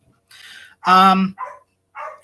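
Dogs bark in a backyard, one loud, close bark between a few fainter yips, all brief and spread apart.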